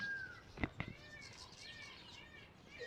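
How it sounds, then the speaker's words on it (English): A couple of sharp, high peacock calls ring out, then softer yelping cries carry from a distance over quiet farm background in the Western Cape, South Africa. "You've got the peacocks going."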